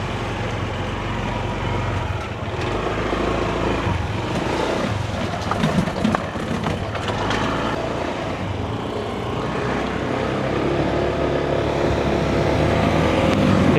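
A motorcycle ridden along a rough rural road, carrying a passenger, its engine droning steadily and loudly throughout with wind and road noise and no talk.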